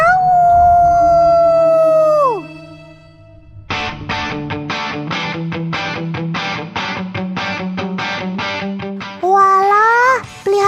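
A young wolf gives a long, rising and falling howl and then a run of short rhythmic yips. A second wavering howl closes the sequence, all loud and close.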